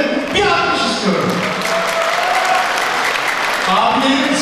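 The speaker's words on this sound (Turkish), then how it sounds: "Bir alkış istiyorum" Audience applause at a charity night for people with disabilities in Freistadt, Austria, sustained loud clapping from a crowd with a voice speaking over the start and cheering mixed in.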